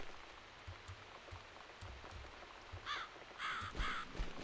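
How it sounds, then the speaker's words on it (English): A crow caws several times in the video game The Cat Lady, harsh calls repeating near the end over a soft rain-like patter. "It's this damn bird again."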